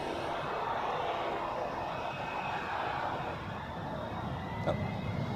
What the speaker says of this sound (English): Like Delta Airlines Flight 900 from Atlanta is already on final approach.